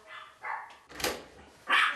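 A small pet dog barks shrilly in a home, several sharp yappy barks in quick succession, close and loud, with brief gaps between them.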